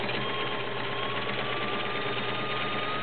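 A vintage Kenmore model 1601 sewing machine running at a steady speed, giving a continuous even whirring hum without pauses, close and alone.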